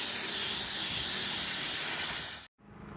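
Aircraft paint remover sprays in one continuous hissing burst onto an old drive-in theater speaker, close and steady, and then cuts off sharply.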